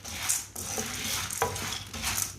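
Lentils dry-roasting in a pan for a Punjabi panjiri, stirred with a few scraping strokes over a steady soft hiss, with a sharper clack near the middle; close and moderately loud, no voices.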